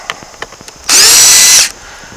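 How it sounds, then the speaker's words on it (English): Power drill backing out screws on the outer trim piece of an archery target: a few light clicks and taps, then a loud, close burst of high motor whine lasting under a second before stopping. "right now I'm just going to start off by removing this outer trim piece"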